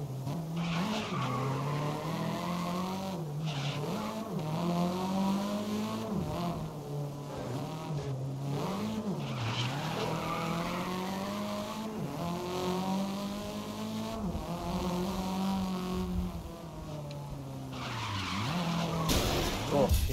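Racing video game car drifting, sustained tire squeal and skidding under a revving engine whose pitch rises and falls in waves across the turns, with brief talk.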